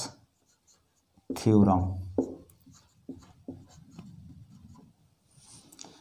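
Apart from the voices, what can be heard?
writing on paper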